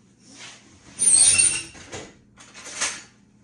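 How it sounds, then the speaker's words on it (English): An old drawer in an old house squeaks open in a kitchen, with scraping sliding noises in two separate pulls, close and fairly loud. "hear that old drawer squeak every time I open it"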